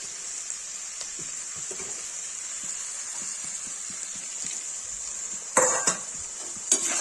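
Tomatoes with turmeric and red chilli frying in a pan for Kashmiri palak paneer, a faint steady sizzle with soft stirring scrapes, then a couple of sharper utensil clinks near the end, with no talking.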